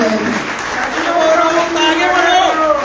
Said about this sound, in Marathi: आमदार साहेबांसाठी एकदा जोरदार टाळी वाजून